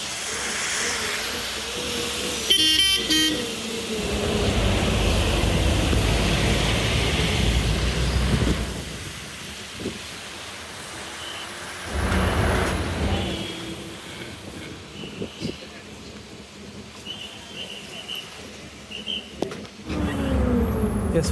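A KSRTC bus on the Haripad to Athankarai Pallivasal route rumbles along with a steady broadband engine and road roar, which dips and swells over time. A few brief sharper sounds occur, and no distinct horn blast stands out.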